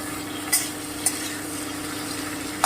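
Turmeric sizzling in a pan as the base for a ridge gourd and poppy seed dish, a low steady frying hiss broken by three sharp utensil taps against the pan.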